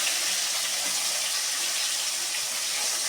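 Fish pieces frying hard in hot oil on a gas stove, a steady loud hiss and crackle running evenly throughout with no pauses.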